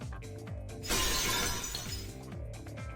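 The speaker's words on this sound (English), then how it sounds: "The sound of breaking glass is accompanied by the light cutting through the gloom." Glass shattering in the Fate/Extra video game, a single sharp crash that rings out and scatters over a low rhythmic musical pulse.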